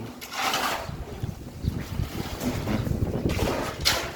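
Cold wind blowing steadily across an open outdoor spot, a broad rushing gust with no voices, loud and continuous from start to finish.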